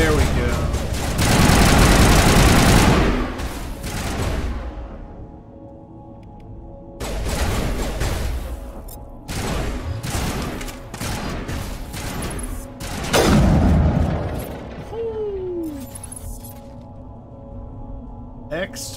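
Gunfire and grenade blasts in Mass Effect Legendary Edition: loud bursts of weapon fire and booming explosions come in waves, separated by quieter stretches of game ambience, with a voice talking over parts of it.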